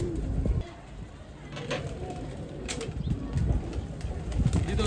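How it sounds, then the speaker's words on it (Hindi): A domestic pigeon, a prized pet bird, takes off and flies, its wingbeats giving short flapping bursts over faint cooing and outdoor background noise, with no speech heard. "जब बड़ा वीआईपी कबूतर है, जब भी मैंने उसको छोड़ा ना उड़ के बैठा है"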